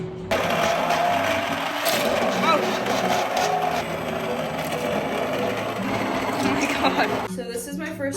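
A stand mixer mixing pierogi dough, a steady whirring motor hum with a rhythmic knocking, close and continuous for several seconds, stopping near the end.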